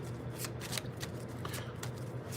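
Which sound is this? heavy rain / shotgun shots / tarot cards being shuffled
tarot cards being shuffled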